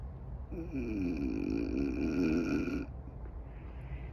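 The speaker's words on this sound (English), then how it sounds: "Well, I heard a little snore." A single low, rumbling snore drawn out over a couple of seconds, soft and close, with a steady background hum.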